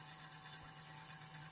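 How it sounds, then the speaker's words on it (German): The new replacement motor of a Tillig V36 model locomotive runs continuously with a steady, faint hum and light whir, unchanging and close, with a small click at the very end. "der Motor läuft jetzt schon eine halbe Stunde"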